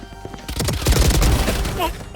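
Rapid bursts of gunfire from Call of Duty: Modern Warfare II on PS5, heard through a Sony Inzone H9 headset with 3D spatial audio, loud close rattling shots building over a couple of seconds.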